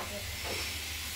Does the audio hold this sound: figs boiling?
yes